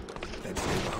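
Gunfire in the PS2 zombie survival game Resident Evil Outbreak, a dense burst of overlapping shots that swells louder toward the end of the second, with no talk over it.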